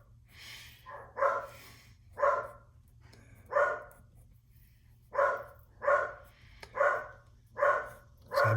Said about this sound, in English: so maybe it's his dog bark